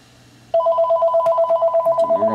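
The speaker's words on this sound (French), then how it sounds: "Oups, c'est le téléphone." A telephone rings indoors, a steady trilling electronic ring pulsing rapidly and loudly after a brief quiet start, with no talk over it.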